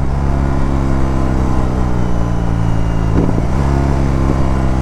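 A 2022 BMW R 18 Transcontinental motorcycle engine with stock exhaust idles and revs close by with a steady low rumble, the pitch dipping briefly and recovering midway; no voices.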